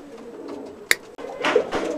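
Pigeons cooing softly near wooden nest-boxes, with a low murmuring coo, a sharp knock or clap in the middle and a brief rustle.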